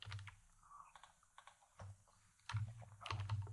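Quiet keystrokes on a computer keyboard while entering a host name into an SSH client, with irregular clicks in short runs and a denser, louder flurry of typing toward the end.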